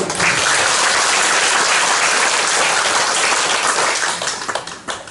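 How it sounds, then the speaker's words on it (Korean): A church congregation bursts into loud, dense applause that fills the room steadily for several seconds before thinning into scattered final claps. "박수"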